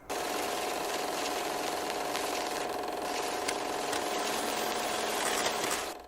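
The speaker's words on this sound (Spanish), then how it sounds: "Tengo todas las ventanas abiertas y un ventilador" An electric fan runs steadily in a room with the windows open, a constant broadband whir with a faint tonal hum, holding at an even level throughout with no voices.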